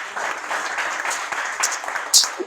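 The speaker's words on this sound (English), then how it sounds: "Nataka muwapigie hawa jamaa makofi for organizing such like event in this place." An audience claps for the organisers of a community event, a steady patter of many hands at moderate distance with a brief louder burst near the end.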